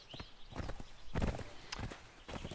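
Horse hooves clopping at a walk in a video game (Conan Exiles), uneven rhythm, fairly quiet and close, with scattered clunks and no speech.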